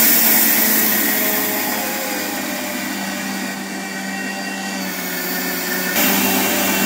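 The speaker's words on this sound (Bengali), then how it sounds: "এরকম করে সবগুলো চালের গুঁড়ো করে নেব।" An electric grinder whirs steadily as it pulverizes rice into powder for Bengali chom chom pitha, a loud continuous motor drone that eases slightly midway and then picks up again near the end.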